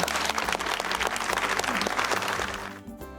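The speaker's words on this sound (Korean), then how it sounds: "큰 박수 부탁드립니다." Applause from an audience at a 2020 outdoor appointment ceremony for the head of Korea's disease control agency, a dense steady clatter of many hands that fades out near the end.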